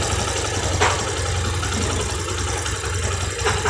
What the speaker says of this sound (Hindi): ऐसे आवाज आ रही है इस इंजन के अंदर।